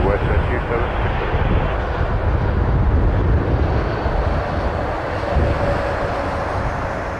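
A WestJet airliner takes off from runway 23 at Toronto Pearson, a steady broadband jet roar holding at constant loudness throughout, partly masked by radio chatter from the control tower.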